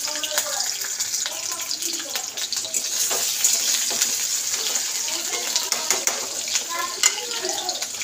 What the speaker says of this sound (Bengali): আলুগুলো একটু ভেজে দিই